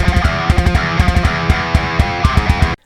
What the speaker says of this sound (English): I've copied the exact same rhythm on the kick drum. So you get this sound.